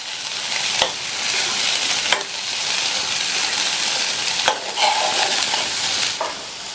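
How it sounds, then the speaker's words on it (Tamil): Boiled green gram being stirred into a hot pan with salt, a steady frying sizzle under scraping spoon strokes, with a few sharper scrapes standing out. "சேர்த்துட்டு நம்ம வேக வச்ச பாசிப்பயிரை இதில் சேர்த்துக்கலாம். நல்லா மிக்ஸ் பண்ணி விட்டுருங்க."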